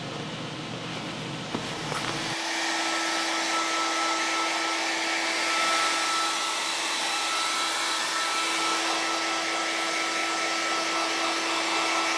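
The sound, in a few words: dryer drying platinum palladium prints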